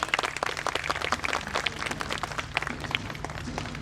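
An audience at a school annual day celebration claps together, the sharp hand claps dense and bunched close by, with a low steady hum running beneath and no voices over them.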